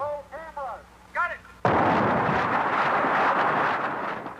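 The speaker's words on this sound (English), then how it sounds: "These are the explosions as we filmed them for this report." A sudden loud blast erupts after a few faint chirps as the Little House on the Prairie TV set is detonated, followed by a sustained roaring rumble of debris that slowly fades.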